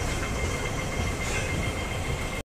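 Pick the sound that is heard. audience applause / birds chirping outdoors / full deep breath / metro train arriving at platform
metro train arriving at platform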